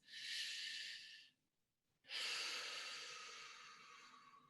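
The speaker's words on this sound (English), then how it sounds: "Eyes closed, breathing all the way down past the chest." Deep belly breathing demonstrated by a single person: a long, close inhale, a short pause of silence, then a longer drawn-out exhale, breathy and without speech.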